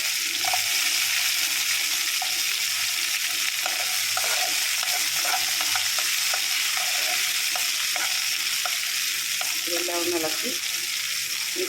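Small shallots, about ten to fifteen sliced into rounds, sizzle steadily in a pan for a chicken curry with jackfruit seeds, a continuous hiss with occasional stirring clinks and scrapes.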